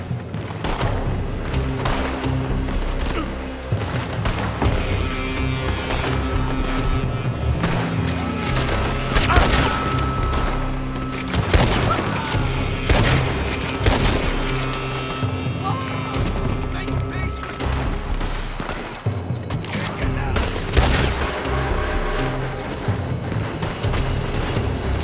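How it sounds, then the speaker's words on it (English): A gunfight rages in Red Dead Redemption 2 at Beaver Hollow, with loud, repeated gunshots and bursts of fire cracking over a continuous din. Horse hooves clop and voices shout amid the shooting. "They're shooting from that building!"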